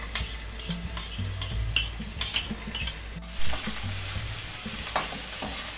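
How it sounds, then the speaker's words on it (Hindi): Garlic frying in hot oil in a kadai for veg masala rice: steady close sizzling with frequent scraping stirs and light utensil clinks against the pan, no talk. "हुण तेल जदों गर्म हो जाएगा तां आपां पहलां लसुण पा देंगे।"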